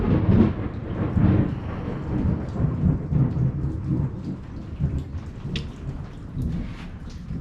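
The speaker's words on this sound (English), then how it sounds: "I thought it was just hard rain, but apparently it's some hail coming down." A thunderstorm with hard rain and hail, a dense, loud, continuous roar of pelting rain and hail near the listener, with low thunder rumbling through it and no voices.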